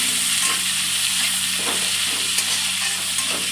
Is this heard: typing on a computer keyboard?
no